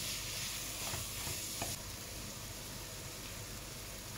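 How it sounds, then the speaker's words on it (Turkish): Tomato paste and minced meat stirred in a frying pan: a steady close sizzle with scraping spoon strokes during the first second or so, then continuous frying hiss with no voices. "Karıştırıyoruz bunu güzelce."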